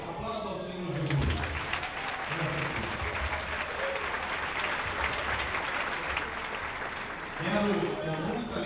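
A church congregation applauding together after a baptism, a dense sustained wash of clapping from many people filling the room, with a voice heard briefly at the start and end.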